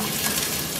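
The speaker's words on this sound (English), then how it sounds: "Aha, hear the sizzling sound?" Garlic sizzles and crackles briskly in hot oil in a pan, a dense, close frying hiss over a short moment.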